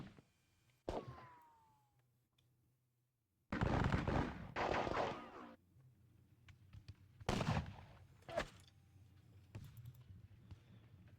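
Musket and artillery gunfire rings out in a Napoleonic wargame set at Valmy, with a few loud bursts of firing separated by quieter gaps and distant rumbling, with no talk.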